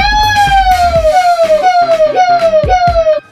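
A Chinese warship's horn or siren sounds loud and close, a series of short, falling, wailing tones repeated in quick succession.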